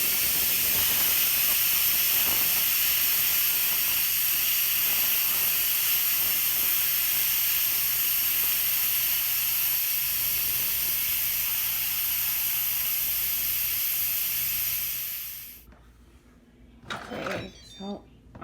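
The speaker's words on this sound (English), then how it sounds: "Now we're going to release the rest of the steam." An Instant Pot pressure cooker vents its remaining steam after a natural pressure release, a loud, steady close-up hiss that runs for about fifteen seconds and then cuts off abruptly, leaving a few faint clicks and handling noises.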